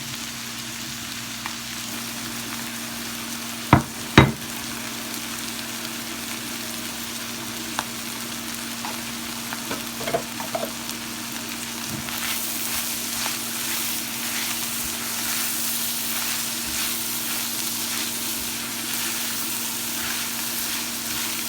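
Corn and bacon fry together in a pan with a continuous sizzle that grows brighter and louder partway through, punctuated by a few sharp knocks and utensil clinks early on.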